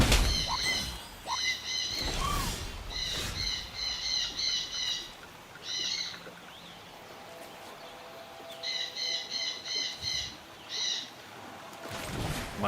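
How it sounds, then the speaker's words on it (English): Pet birds in a house call from downstairs, loosing repeated bursts of shrill, piercing chirps and squawks in rapid clusters with short pauses between them. They sound somewhat distant, carrying over a low room background. "those birds downstairs, I apologize, y'all. They are squawking their fucking heads off because they can hear me talking."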